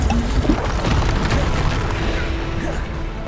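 Bombarda spell explosion in the game Hogwarts Legacy, a booming blast with rumbling combat noise, sustained and loud throughout, with game voices mixed in.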